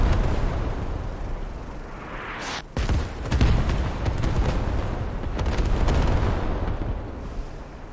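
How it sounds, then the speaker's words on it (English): Close artillery fire in the video game Squad, a loud rumbling roar of heavy explosions with a sharp crack partway through, followed by sustained thundering blasts and crackling debris. "There's some close artillery support"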